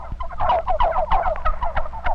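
Several male tom turkeys on a farm gobble in rapid, overlapping rattling calls, close and fairly loud, with no talking.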